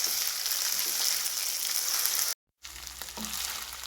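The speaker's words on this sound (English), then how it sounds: "So just stir a little." Mince meat stew in a pot with Worcester sauce, soy, vinegar and tomato paste, bubbling and sizzling steadily while being stirred, broken by a brief silent gap before the frying noise resumes.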